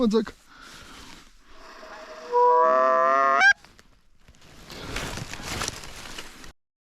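Geese honk loudly for a moment during a Montana goose hunt, a drawn-out nasal call, followed by rustling and a voice nearby.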